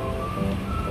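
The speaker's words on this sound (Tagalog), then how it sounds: "Kasi ang lakas ng ulan sa labas." Heavy rain falling outside, a dense continuous wash of rain noise with a low rumble, heard from indoors in a souvenir shop.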